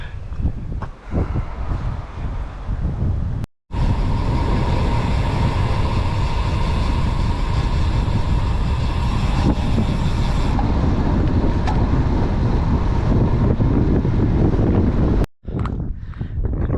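Strong wind roars into the microphone during a road cycling ride on Fuerteventura in the Canary Islands, a loud, steady buffeting rush that fills the whole stretch, with two brief dropouts.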